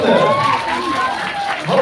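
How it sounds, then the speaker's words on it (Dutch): Young audience at a fan day show in a Dutch amusement park clapping and cheering, a loud, close crowd with children's shouts and excited voices over steady applause. "Groot applaus voor de volgende."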